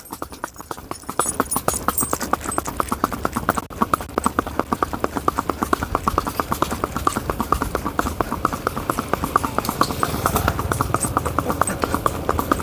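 A Sindhi mare's hooves clip-clop in a steady, brisk walking rhythm throughout, close and fairly loud, with continuous hoof strikes and some background noise.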